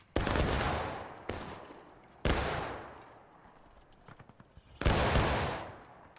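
Three loud, sharp volleys of musket gunfire at a battle reenactment in a field, each a sudden blast with a long rolling echo, separated by quieter crackling scattered shots.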